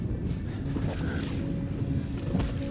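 A cold north wind buffets a fishing boat out on the water, producing a steady, dense roar of wind noise across the microphone with no clear pauses.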